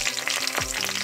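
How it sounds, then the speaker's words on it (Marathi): Garlic frying in hot oil with mustard seeds, curry leaves and red chillies for a Goan French bean foogath, a steady loud sizzle with stirring scrapes throughout, no voices. "आतां आमचो गार्लिक बरो भाजून येयला."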